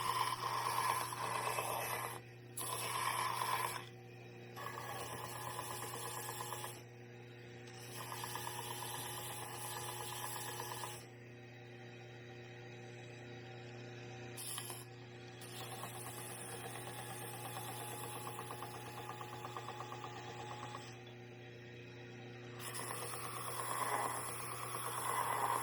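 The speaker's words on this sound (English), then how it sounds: "We're using a Kalamazoo sander grinder here" A Kalamazoo sander grinder hums steadily as holster edges are smoothed on it. The faint motor drone carries throughout, with brief dips and changes in tone as the workpiece is pressed against the belt. No voices.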